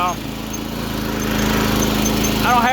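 A mini tractor's small engine drones steadily and grows louder as the machine pulls a wheelie. A voice speaks briefly at the start and end.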